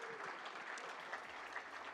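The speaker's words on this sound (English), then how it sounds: "Let's give them a big round of applause." An awards-ceremony audience at the Kiwi Indian Hall of Fame Awards applauding sponsors, a dense, even wash of many hands clapping, moderately distant and sustained throughout.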